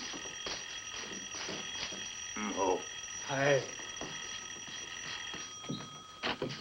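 A continuous electric doorbell rings steadily in the background while someone speaks over it briefly.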